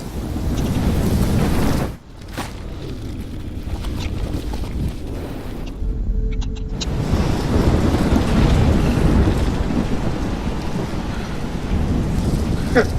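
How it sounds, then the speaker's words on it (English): Roaring storm wind and crashing waves rush steadily in the game Life is Strange, loud and constant with a brief dip near the start, while a person talks over it. "I've never seen a storm like this in Oregon"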